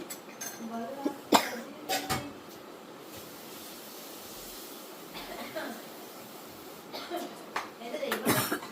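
A few loud nearby coughs from a woman in a home kitchen break out in short bursts over a faint hiss, with speech and clinking utensils around them.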